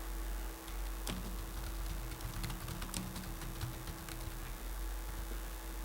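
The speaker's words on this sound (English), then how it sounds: "Let me just type it instead." Steady typing on a computer keyboard, quick clicking keystrokes close up with an occasional louder key press, over a constant low hum.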